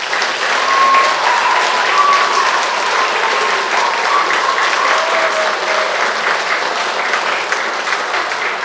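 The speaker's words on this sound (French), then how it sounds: "Donc on peut les applaudir aussi." An audience at a live stage show in a French seaside town breaks into sustained applause, with a broad, even wash of many hands clapping from start to finish and no talk over it.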